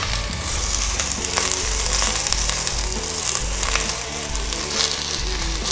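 Chopped leek and garlic toast in a pan, giving a loud, steady sizzle with crackling bursts, and tonal background music plays underneath.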